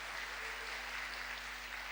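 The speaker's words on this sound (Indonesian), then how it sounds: "Tepuk tangan bagi Tuhan Yesus yang meriah sekali." A church congregation claps at a revival service in a brief, steady wash of applause, heard faint and distant.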